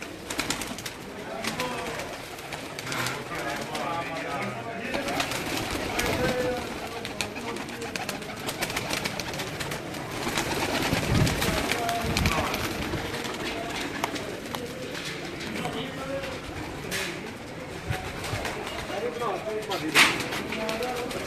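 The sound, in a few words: breeder pigeons cooing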